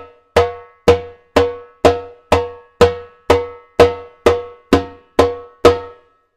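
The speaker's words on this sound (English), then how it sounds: "one of the most difficult techniques and sounds to get from a timbal" A timbal (timba) struck with loose, quick fingers gives sharp, bright metallic hits, about a dozen evenly spaced strokes in a steady rhythm, close and loud with no voices.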